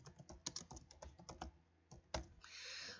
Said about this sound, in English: So I'm just going to type that quickly.